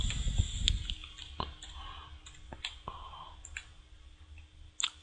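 A computer mouse clicks softly several times at irregular intervals, close and faint against a quiet room with a low background rumble.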